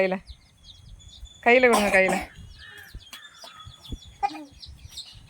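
Chickens and chicks cluck and peep in short bursts, with one loud close squawking outburst in the middle and faint chirps scattered around it.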